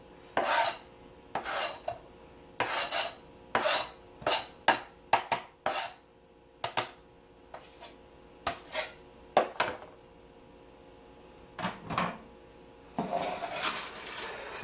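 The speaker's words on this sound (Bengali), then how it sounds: "এবার আমি পেঁয়াজটা মিশিয়ে নিচ্ছি।" Onion being mixed into a Bangladeshi salad with cucumber and tomato, a series of short scraping and clinking strokes of a utensil against a bowl in irregular bursts, fairly faint and close.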